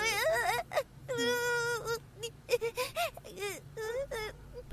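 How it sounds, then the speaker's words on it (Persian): A boy cries close up in a dubbed Persian drama, with long, rising and falling wails broken by short sobbing gasps in a ragged rhythm. "پسرم گریه نکن، هیچی نشده."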